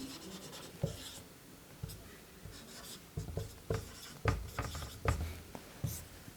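Marker or chalk strokes on a board during a trigonometry lecture, a series of short scratchy taps and drags coming in irregular bursts, fairly close and moderately loud, with no talking over them.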